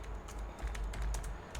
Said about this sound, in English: I'm just typing gibberish right now